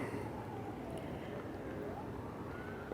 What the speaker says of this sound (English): So it's no surprise you might be hearing sirens.